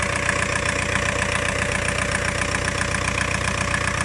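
A Volkswagen Caddy engine idles after a transmission replacement, a steady, even mechanical drone with a faint regular ticking, close and constant throughout with no voices.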